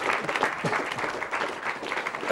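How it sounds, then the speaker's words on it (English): A small group claps loosely during a live Super Mario Bros: The Lost Levels speedrun, a patter of hand claps running throughout with voices mixed in. "Why are you clapping at that?"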